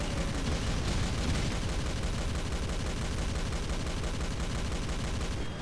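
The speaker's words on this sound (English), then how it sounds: "Shooting at me now, huh?" Gunfire in the Doom video game, a dense continuous barrage of rapid shots and rumbling blasts aimed at the player, loud and unbroken throughout.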